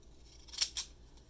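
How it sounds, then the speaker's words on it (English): Scissors cut paper for an altered book with two quick, crisp snips close by in a quiet room. "I'm just going to cut it"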